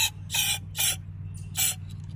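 Starter fluid sprayed into a Honda HRX217TDA lawn mower in three short hissing bursts with a fourth after a pause, close and fairly loud over a steady low hum.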